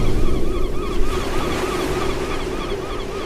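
Sea waves wash steadily onto the shore, a continuous rushing surf with some wind noise on the microphone.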